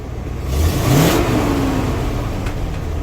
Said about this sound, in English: That's me dropping the clutch.